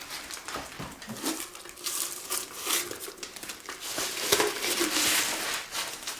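Thin plastic bag crinkling and rustling in close, uneven bursts as it is pulled over an amputated leg stump before a prosthesis is put on, faint and continuous with no talk.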